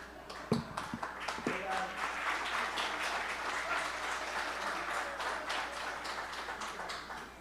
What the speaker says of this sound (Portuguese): Uma salva de palmas para Abílio Brunini.